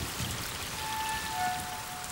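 Rain falling steadily in the rainy season at Copan, a dense close patter of drops on surfaces, continuous and even with no voices.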